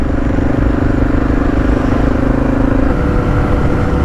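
A Honda XR650L motorcycle cruising along, its single-cylinder engine droning steadily and loud alongside wind rush and rattling, with no voices.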